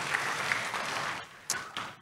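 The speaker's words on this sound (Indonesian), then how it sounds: "Kasih tepuk tangan yang meriah untuk Tuhan Yesus." A church congregation applauding during a Sunday service, a short burst of fairly faint, distant clapping that thins out toward the end.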